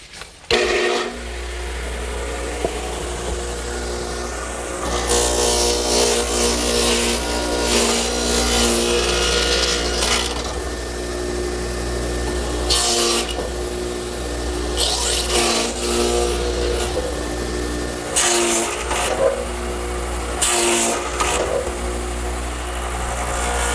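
A radial arm saw, swung 20 degrees past zero for an opposing angle, cuts through wood for a picnic table build: a low steady motor hum with several loud rasping bursts as the blade bites, close and with no voices.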